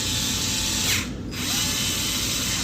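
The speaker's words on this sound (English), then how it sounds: "We'll put this cap on and start tightening it with our electric screwdriver" An electric screwdriver whirs in a short burst while tightening a cap on an Aipas C1 Max Xpress ST ebike, a close mechanical buzz that cuts out briefly and resumes, with no voices.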